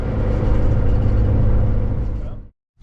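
Car out on a test drive after a recalibrated throttle body, a steady close engine and road hum that fades out and cuts to silence near the end.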